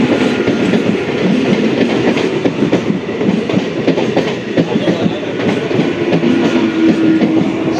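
An EMU local train of the Sealdah division passes close and loud, with continuous rumbling and rapid clickety-clack of wheels over rail joints filling the whole stretch, and no talk.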